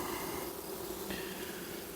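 Honey bees buzz at an opened hive during a colony inspection, a dense, steady hum close by that continues without a break and with no talk.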